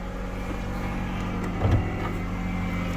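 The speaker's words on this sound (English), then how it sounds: "so this one starts right up too." A cheap used car idles steadily after starting, a constant low engine drone filling the scene with a brief louder rumble partway through.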